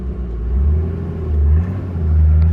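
A car climbing a choppy, bumpy slope near Stockton, first in first gear and then in second, gives off a close, deep engine rumble that swells and eases as it strains uphill.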